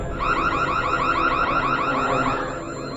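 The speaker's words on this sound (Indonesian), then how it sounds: "Rocky menyalakan alarm rumah itu untuk meminta bantuan polisi dan alarm pun berbunyi" A house alarm wails in a steady, rapidly warbling electronic tone, loud and close, repeating without pause throughout.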